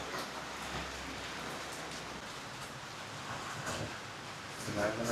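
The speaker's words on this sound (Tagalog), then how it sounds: "Ayun po, napakalakas ng ulan." Heavy rain pours down during a storm over a flooded sitio in Malolos, a steady hissing wash of fairly distant rainfall while people talk nearby.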